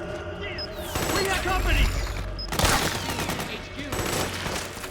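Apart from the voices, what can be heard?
suppressing gunfire in Metal Gear Solid 4 video game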